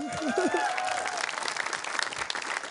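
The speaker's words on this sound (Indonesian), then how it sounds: "Sekali lagi tepuk tangan untuk wali kelas kita." Applause for a class homeroom teacher on an Indonesian TV variety show, a steady crowd clapping wash heard under a brief sung or spoken voice at the start.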